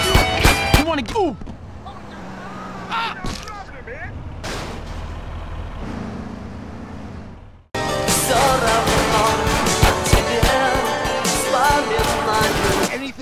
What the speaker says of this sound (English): I'm about to start shooting at you!